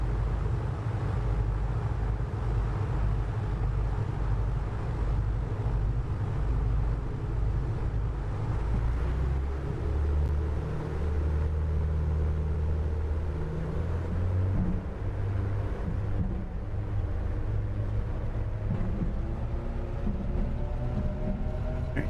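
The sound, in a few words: A2A Aerostar 600 engines at takeoff power, flight simulator game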